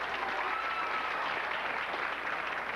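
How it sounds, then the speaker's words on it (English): A comedy show audience applauds steadily, with dense, even clapping that holds for the whole stretch and no voices over it. "By applause tonight in the audience."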